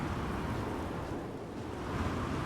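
Wind blows high up in the Star Wars Outlaws game world, a steady, fairly quiet rushing roar with a slow swell and no voices.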